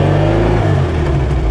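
A Porsche 550 Spyder's engine revving on its first drive, a loud, close, throaty mechanical drone that rises and settles with rumbling low tones.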